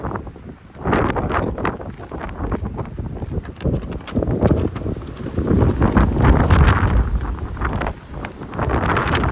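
Strong wind buffets the microphone in loud, rumbling gusts that rise and fall throughout, with no voices, outdoors at an open-air museum near a burial mound in Chiba, Japan.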